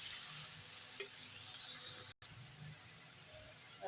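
Cinnamon and a bay leaf frying in hot oil for a Bengali rohu fish curry, a steady close hiss of sizzling with a brief gap midway.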